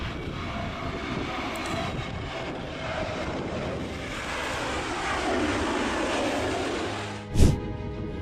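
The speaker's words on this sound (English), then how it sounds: "A321neo landed in crosswind." An Airbus A321neo airliner lands in a crosswind, its engines producing a loud, sustained roar and rumble that swells mid-clip, with a sharp thump or gust near the end.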